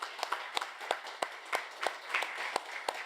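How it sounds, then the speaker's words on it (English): A small audience at a SecDSM security meetup applauds the sponsors, a sparse run of distinct claps spaced a fraction of a second apart, fairly quiet and close, with room murmur underneath. "a round of applause for the people that help us"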